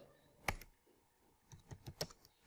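Sparse keystrokes on a computer keyboard while entering text into a Microsoft Excel 2019 spreadsheet: one sharp click, a pause, then a quick irregular run of faint taps, close and without talk.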